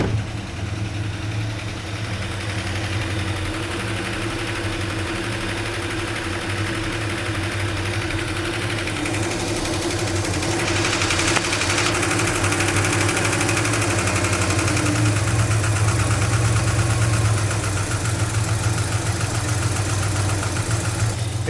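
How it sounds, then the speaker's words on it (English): An old Dodge truck engine, revived after sitting ten years with oil all over it, idles steadily with a low, rough, knocking rumble that swells slightly partway through. "Oh, and now it cranks."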